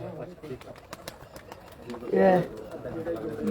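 Pigeons coo in a low, throaty burst on a rooftop in Shorkot under steady talking, with a louder swell of cooing partway through.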